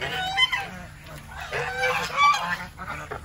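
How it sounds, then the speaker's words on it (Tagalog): Geese honk repeatedly in the rain on a farm, several loud nasal calls close by over a steady wash of rainfall, with no talking. "Itong mga gansa."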